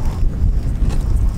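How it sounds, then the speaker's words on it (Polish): Strong wind buffets the microphone in a steady, low roaring rush with no other sounds, on the beach at Elafonisi, Crete. "Wiatr się strasznie zerwał."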